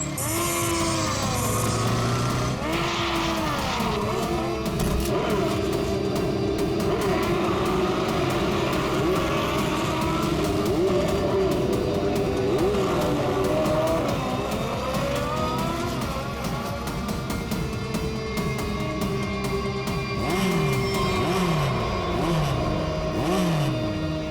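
Motorcycles race past in a loud, continuous engine din, with rising and falling revs and overlapping passes sweeping by close up throughout.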